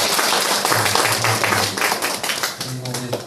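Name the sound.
audience applause welcoming guests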